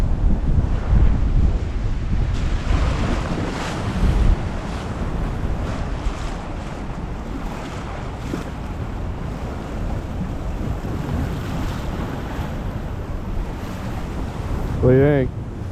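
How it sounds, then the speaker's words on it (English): Strong wind buffets a microphone outdoors on a cold winter hike to waterfalls in Cuyahoga Valley National Park, a constant loud roaring rumble with heavier gusts near the start and again near the end. "It's a little windy."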